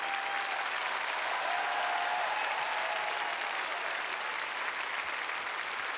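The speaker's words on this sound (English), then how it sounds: "More applause, please, everybody." A crowd claps at the ISU Skating Awards 2023 ceremony honoring ice dancers Gabriela Papadakis and Guillaume Cizeron. The clapping is continuous, even and full, with no voices over it.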